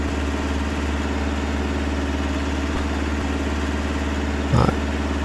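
A farming video game tractor engine idles steadily at a constant mid-low throb, loud and close, with no talking; a brief knock near the end.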